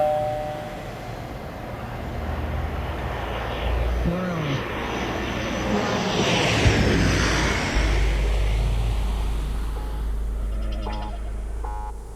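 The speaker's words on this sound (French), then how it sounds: "Le décollage est imminent." Airplane taking off, a steadily building jet engine roar that swells and sweeps in pitch over about twelve seconds, with brief tonal effects layered in, loud and close.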